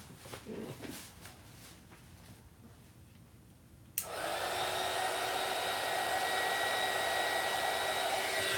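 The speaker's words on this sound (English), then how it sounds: "I'm just heat gunning it." A heat gun blowing hot air switches on partway through after a quiet stretch, then runs as a steady, fairly loud whooshing whine to the end.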